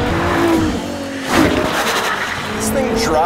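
A LaFerrari sports car cruising on a public road, its engine a steady close drone with a brief swell of revving, while someone talks over it throughout.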